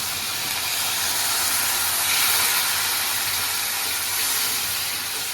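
Water poured into a pan of hot fried masala for a Bengali rohu fish kalia, a loud, continuous steamy hiss and bubbling that swells briefly and holds steady throughout.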